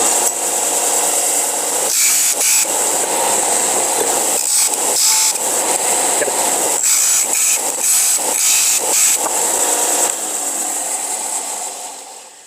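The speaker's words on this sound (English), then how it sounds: "So now we're going to just grind these flat using our trusty." An angle grinder grinds scrap metal pieces flat for a planter, giving a loud, steady high-pitched whine with abrasive rasping, briefly interrupted by short dips as the tool shifts against the metal, then winding down at the end.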